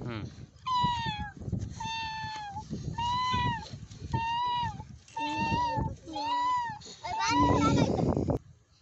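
A person imitates a cat, voicing about seven clear, drawn-out meows in a steady row, each call close and fairly loud with short pauses between them.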